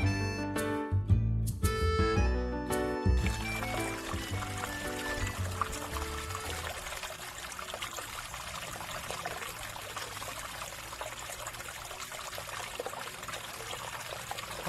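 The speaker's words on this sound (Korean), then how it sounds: "물소리가 참 시원하네요" Spring water splashes and trickles steadily, loud and close, with a few bright tonal notes at the start before the flow settles into a constant stream, at a spring in Jocheon-ri, Jeju.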